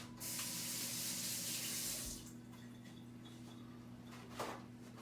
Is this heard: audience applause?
no